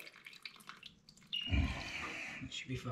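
Water rushing out of a heating pipe being drained during a heating system upgrade, a quiet trickle at first, then a louder sustained gush that keeps running to the end.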